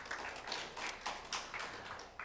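Audience applause at the awards portion of a public-institution jobs ideathon final in Daejeon-Chungcheong: a fairly faint, steady wash of many hands clapping, with irregular swells, continuing throughout.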